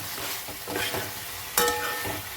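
Tomatoes and onion fry in a pan for a simple chicken curry, a close, constant sizzle with spatula stirs scraping through and one sharp clack near the end.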